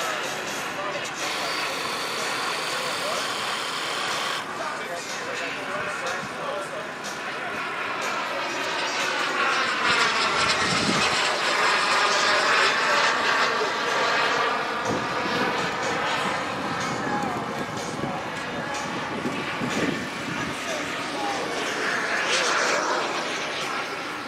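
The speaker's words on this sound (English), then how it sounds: "And the yellow and white Viper gear down, making the break. He's setting up for his landing." A yellow and white Viper airplane at an air show, setting up for landing with gear down, its engine droning loudly with a broad roar that swells and fades as it passes, while a commentator talks over it.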